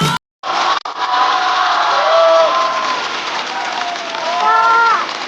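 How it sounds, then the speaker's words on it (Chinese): A studio audience at a stand-up comedy show breaks into loud, sustained applause with cheering as a performer is welcomed onstage, a dense wash of clapping that swells again near the end. "掌声欢迎海波。"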